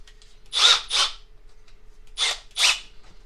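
A Milwaukee M12 FUEL hammer drill/driver on speed 2 bores a 1 inch hole with a paddle bit, heard as four short, loud whirring bursts with brief quiet gaps between them.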